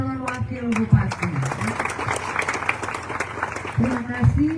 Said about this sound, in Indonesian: tepuk tangan untuk calon wakil bupati.